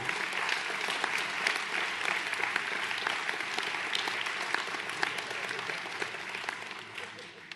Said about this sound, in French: J'aimerais qu'on les applaudisse et qu'on les encourage.